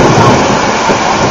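A loud, close rumble of thunder rolls through a thunderstorm in Perth, a dense, sustained roar that fills the whole moment with no voices.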